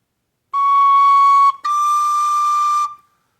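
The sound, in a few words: tin whistle playing from third note to fourth note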